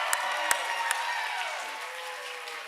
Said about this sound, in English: Let's do a big round of applause for our team up here.